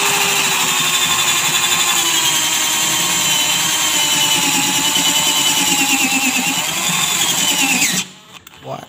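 A cordless drill with a worn bit whines loudly and steadily for several seconds boring into thick, hard aluminium plate, its pitch wavering slightly under load, then cuts off abruptly as it jams, leaving near silence and a small knock.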